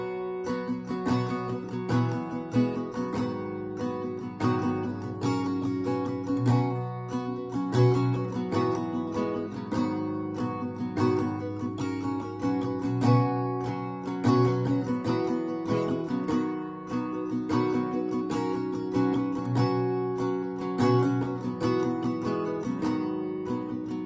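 Close acoustic guitar strumming plays through the full chorus of a song, live version, in a continuous, even rhythm of chord strokes that keeps a steady level for over twenty seconds without any talking.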